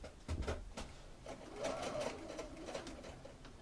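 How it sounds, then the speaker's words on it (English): A sewing machine stitching in the ditch along the seam line around a double welt pocket: a steady, close mechanical whir with rapid needle ticking running throughout. "I have now stitched in the ditch or sink stitched along the seam line of the pocket to hold those layers together."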